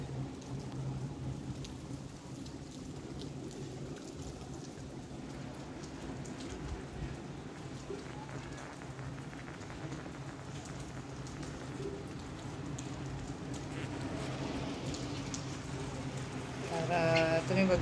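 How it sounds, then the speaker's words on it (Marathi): Rain that has been falling since the night keeps pouring in a continuous soft hiss, fairly faint and distant, rising slightly toward the end, with a few faint background sounds. "पाऊस चालूच आहे, आताही चालू आहे."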